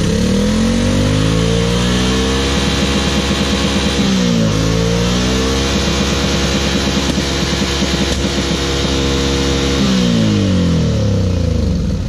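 A Can-Am Renegade 800R XXC ATV engine is held at loud full throttle, the pitch surging and dipping in steady waves, with a brief drop midway, dominating the foreground without any talk.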